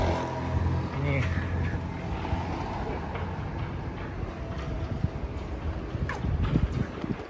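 Strong wind gusting steadily outdoors on a hot day in Antalya, a continuous roaring rush with heavy low buffeting against the microphone throughout; people talk over it.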